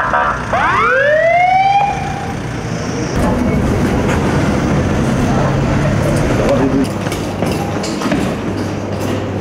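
A loud police security alarm siren sweeps upward briefly at the start, then gives way to dense, noisy commotion.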